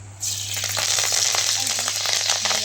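Curry leaves hit hot oil for a khichdi rice tadka, bursting into a loud, steady sizzle after a short quiet moment, with a low electrical hum underneath.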